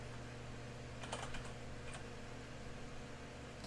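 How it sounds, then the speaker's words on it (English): A faulty computer keyboard is typed on in a few quick bursts of clicks over a steady hum of fan noise, quiet and close, with no talking. "I can barely even type."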